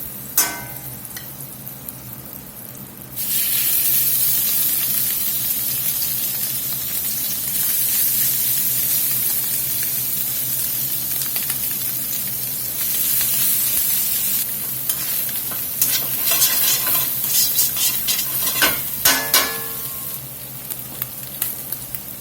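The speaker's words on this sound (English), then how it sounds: "We're going to Finish cooking this beef and get it seasoned up" Shredded beef fries in a buttered, oiled skillet with a loud continuous sizzle, swelling as the meat is stirred and tossed, with scraping clatter near the end.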